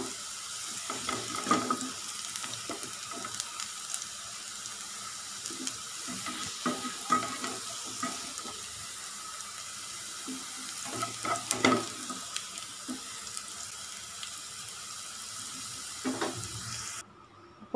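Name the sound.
sautéing bitter gourd in oil in a pan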